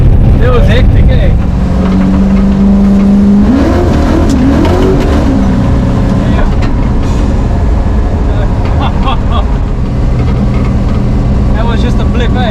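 A 1966 Pontiac GTO with a 535ci big block engine rumbles loud and heavy throughout, with a short rev blip early on and a deep, continuous low growl afterward, recorded very close.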